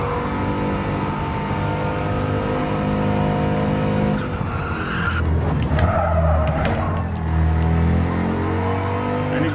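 A race car in Gran Turismo 7 at full throttle, its engine holding a loud sustained whine with tire skid and squeal bursts midway before the engine note climbs again, and no voices.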